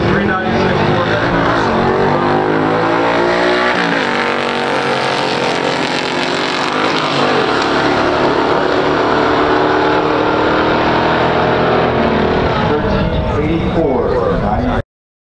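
A 1965 396 Corvette and a 1970 Plymouth Duster 340 in a pure stock drag race, loud roaring V8 engines revving up through the gears with rising and falling pitch, very close and sustained, with voices mixed in.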